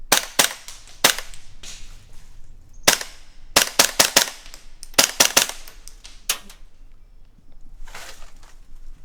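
A Beretta PMX airsoft SMG fires in blowback bursts in an indoor CQB setting, sharp close snapping shots in quick clusters of two to four with short pauses between, loud and echoing.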